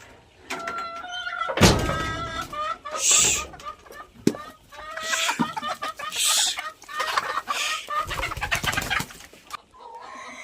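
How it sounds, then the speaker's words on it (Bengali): Native desi hens cluck and squawk close by inside an egg-laying shed. The calls come in irregular bursts and repeated cackles, with some faint voices mixed in. "এই হলো আমাদের ডিম পাড়া মুরগির শেড"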